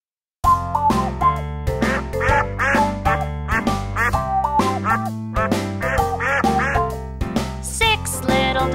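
Cartoon duck quacks in a children's nursery rhyme song about farm animals and little ducks, set over bouncy music with a steady beat; the quacks sit within the loud musical backing throughout.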